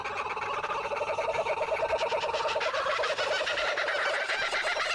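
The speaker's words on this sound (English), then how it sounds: "That is kookaburras." Kookaburras calling in a video game trailer shown at a game awards broadcast, a loud sustained cackling bird chorus with rapid repeated laughing notes rising in intensity throughout.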